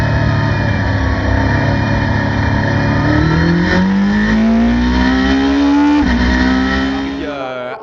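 GT race cars leaving the grid at the start of a race at Le Mans, a loud engine revving up in pitch through the gears, recorded up close from on board.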